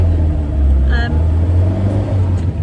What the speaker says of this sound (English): I don't know if you can hear me over my engine.